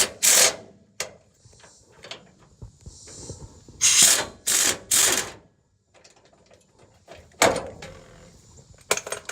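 Bursts of ratchet-wrench clicking while backing out the last nut holding the rear bumper on a 2016 Ford F-350, several short close metallic runs separated by pauses and handling noise.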